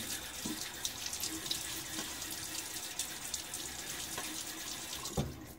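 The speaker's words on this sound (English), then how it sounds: "I'm going to splash my face with a little bit of water." Cold tap water runs steadily into a bathroom sink during a wet shave, with occasional splashes and hand splashes of water onto a face, close and fairly quiet with no talking.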